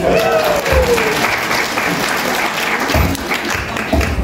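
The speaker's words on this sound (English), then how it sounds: "Keep cheering, everybody." Spectators on a high-country farm near Queenstown, New Zealand cheer and clap after a sheep shearing, a loud, continuous wash of applause with bursts of low thumps and voices mixed in.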